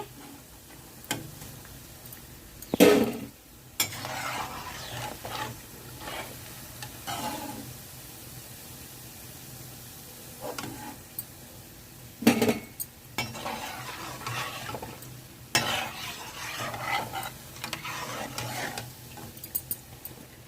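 Kakinada gottam kaja sweets frying in oil, a steady low sizzle with occasional clinks and stirring knocks of a utensil against the pan, no talk.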